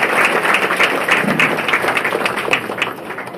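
Applause from an audience at a village felicitation ceremony held at a centuries-old Shri Ram temple, steady dense clapping throughout, loud and close.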